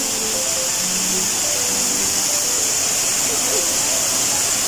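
The waterfall at Mai Dai Falls, Tai Hang, Hong Kong, pours with a steady, dense roar of rushing water, loud and continuous throughout, with faint voices beneath it.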